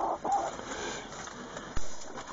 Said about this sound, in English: We've got 10 hens in here and one rooster.